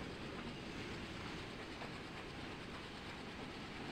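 An ALCO diesel locomotive runs in the MSTS train simulator game, a steady dense rumble of train and rail noise that holds evenly loud throughout with no distinct breaks or voices.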